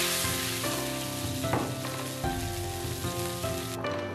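Sea bass sizzling in hot oil in a wok or pan, a steady dense crackle and spatter heard up close, with a few louder bursts and no speech.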